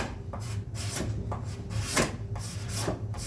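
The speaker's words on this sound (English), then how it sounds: "I'm going to try it with just the card scraper first" Dry, repeated scraping strokes of a card scraper smoothing cured epoxy on a wooden surface, close and moderately loud in a rhythmic back-and-forth pattern with no talking.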